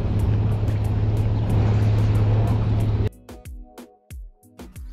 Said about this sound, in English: Driving the narrow street down is a little awkward with a camper